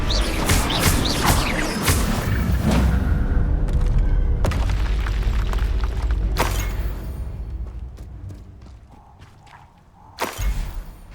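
Incendio fire spell cast in Hogwarts Legacy, heard as loud booming, crackling bursts of magic amid combat clatter, with a fresh burst near the end.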